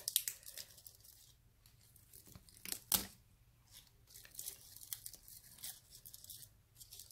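A pine cone is pulled and cut apart toward its center, producing close, dry tearing and cracking with one sharp snap near the middle amid quieter crackles.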